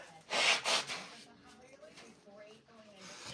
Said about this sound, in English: let me blow my nose really quick